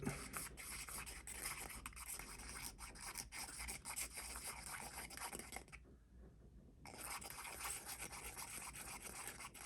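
3M 08001 gasket adhesive is mixed, giving a continuous faint rubbing and scraping with a short pause partway through and no voices.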